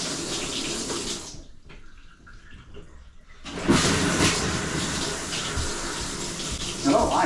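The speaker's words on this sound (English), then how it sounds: "Bath's running." Running water fills a bathtub in a steady, full rush that drops away briefly and then resumes loudly, with faint voices in the background.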